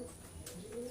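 A pigeon kept for egg laying coos softly in a short, faint, low murmur against steady background hum.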